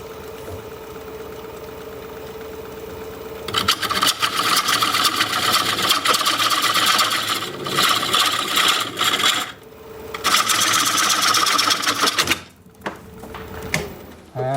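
Carbide tool on a wood lathe cutting a large ponderosa pine turning, giving a loud, steady broadband rasp with brief pauses and a hum underneath.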